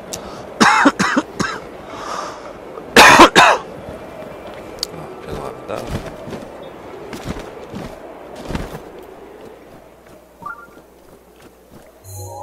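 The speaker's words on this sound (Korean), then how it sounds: "기침이 계속 나네요, 갑자기." A few sharp coughs burst out, including a loud double cough, followed by quieter throat sounds and faint movement noises over a longer stretch.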